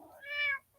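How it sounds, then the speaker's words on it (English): A house cat gives a single clear, fairly close meow lasting about half a second, with a quiet room around it and no talking. "Shut up, kitty."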